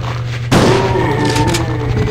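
Shotgun blast in Resident Evil 2 fired at a group of zombies: one loud, close, sudden boom followed by a ringing, echoing tail over the game's background noise.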